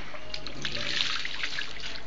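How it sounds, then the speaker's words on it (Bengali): Water poured for bathing, a soft continuous splashing trickle heard fairly close and at low level, with no voices. "এটুকু জল দিয়ে স্নান করতে হবে"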